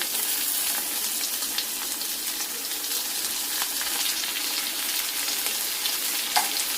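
Onions fry in a pan with a steady close sizzle, with tomatoes added for a bottle gourd curry and an occasional soft stir or clink over the hiss.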